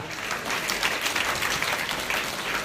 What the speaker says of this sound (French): Applaudissez Jésus-Christ, alléluia